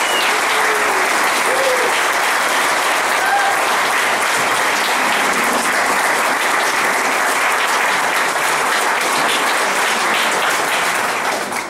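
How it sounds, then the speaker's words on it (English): Sustained, dense applause from a large crowd at a Ludlow Massacre memorial service, loud and steady throughout, with scattered cheers mixed into the clapping. "I want you to give her another round of applause."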